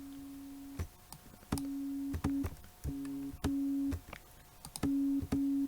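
A low, buzzy synthesizer tone from the GMS plugin in FL Studio runs through a filter and pulses in short on-off bursts of steady pitch, mixed with clicks, close and without talking.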